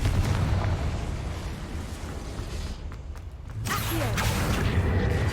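Confringo explosive spell cast in Hogwarts Legacy inside a goblin mine: a rumbling, eruptive blast with whooshing debris that dips briefly, then surges again loudly.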